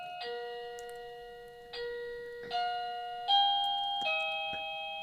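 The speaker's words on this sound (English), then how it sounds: "the doorbell is ringing" A doorbell chimes repeatedly, five bright ringing tones in quick succession, each sustained and overlapping the next, fairly close.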